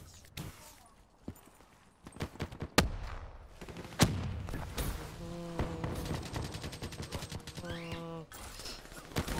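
Shotgun gunfire in Call of Duty Black Ops 3 comes as scattered sharp, cracking shots of varying loudness, mixed with other game effects and brief tonal sounds.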